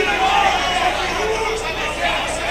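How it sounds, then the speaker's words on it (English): Fight crowd at a combat event with Igor Vovchanchyn, a steady roar of spectators and babble throughout, fairly loud and continuous with no clear bursts. "Crowd is into this one."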